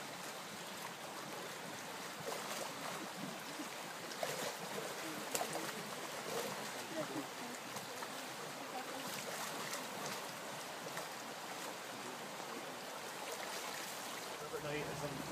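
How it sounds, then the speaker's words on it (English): River water flows and splashes steadily around legs standing in the Faughan during kick sampling, a continuous close wash of moving water, with speech faintly present. "Put the net downstream, the water's flowing into it."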